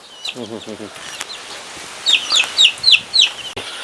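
Free-range country chickens and their chicks on a village farm: soft chick peeps near the start, then a run of clear, close clucks and calls in a steady rhythm over quiet background noise.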